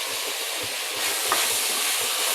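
Dried shrimp (sukat) being sautéed with red chilli powder and spices in a pan, giving a steady close sizzle with soft stirring scrapes throughout, no talking.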